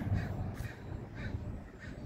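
Birds call repeatedly outdoors in the Philippines, a few short cawing cries rising over a steady low rumble of wind or traffic.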